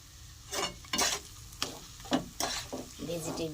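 A vegetable chop mixture with chopped coriander is stirred in a pan, giving a series of close, irregular scraping strokes over a soft sizzle; no voices.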